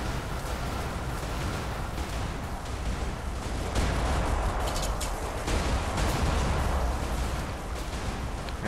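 Bombs dropped on a tank in iBomber Defense Pacific burst in a dense, continuous roar of explosions and rumbling blasts, loud and sustained for the whole stretch, with no talking over it.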